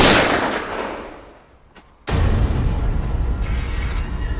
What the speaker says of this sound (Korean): 총소리에 진입을 명령한 형민.